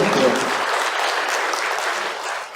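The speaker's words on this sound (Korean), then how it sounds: "네 박수 한번 보내주세요" A brief, dense burst of audience clapping at a political launch rally in Daegu, fairly close and steady for a couple of seconds before tapering off.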